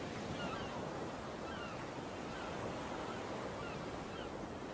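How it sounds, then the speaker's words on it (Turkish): Steady ocean surf washes continuously at a distance, a soft, even roar of breaking waves blended with wind, with no voices. "duymuyor musun dalga seslerini?"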